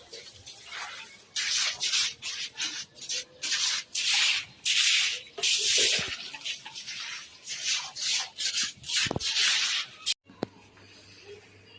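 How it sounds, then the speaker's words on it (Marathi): Rhythmic scrubbing and rubbing strokes while cleaning a house, in repeated bursts of steady brushing, close and fairly loud, ending with a few sharp knocks. "पहिले आता इथे धुवायला घेतली, पूर्ण घासून काढली"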